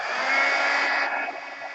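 A dryer spot-drying wet tissue paper glued onto a box for mixed-media craft work; a close, steady blowing whoosh with an even motor hum that eases slightly toward the end.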